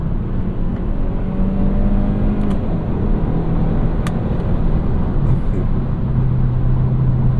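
A Kia K5 GT engine revving as it downshifts in manual mode, a steady loud cabin drone with rising and falling engine tones, near and continuous.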